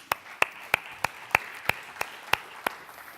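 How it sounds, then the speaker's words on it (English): Slow, evenly spaced hand claps, about nine sharp strikes over three seconds, moderately distant in a quiet hall at a finance tech pitch event, with no talking. "A warm applause."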